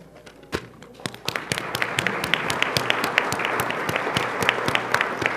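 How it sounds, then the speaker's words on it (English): Applause from the audience at a U.S. naturalization ceremony held at the Norman Rockwell Museum, with loud, sharp individual claps building over a few seconds into sustained clapping. "for that, we applaud you"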